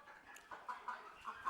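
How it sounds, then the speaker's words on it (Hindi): Kadaknath chickens on a poultry farm in Bastar, Chhattisgarh, give soft, scattered clucks close by over a quiet background. "मैंने कड़कनाथ मुर्गों के पालन की शुरुआत की हुई है।"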